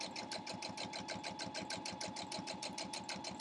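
A sewing machine stitching fleece in quilt-as-you-go fashion on a cat quilt block runs steadily with a fast, even rhythmic whir, close and fairly quiet, with no talking.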